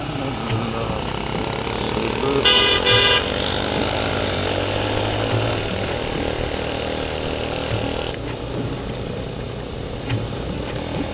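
A motorbike rides along a rain-soaked road through Leepa Valley, its engine droning steadily and close throughout, with a brief burst of horn honking early on and a few sharp knocks over the rough track.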